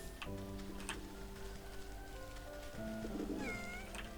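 A video game cat meows in a few short, tonal calls over soft ticking and a quiet, steady background.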